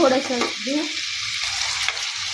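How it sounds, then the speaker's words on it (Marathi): Chopped capsicum, green chillies and onion fry in hot oil with a steady, close hiss of sizzling, and a brief stirring scrape near the start. "शिमला मिर्च धुवून ठेवलेली कट करून, पूर्ण हे सगळं गोल्डन ब्राऊन होईस्तोवर तळून घ्यायचं"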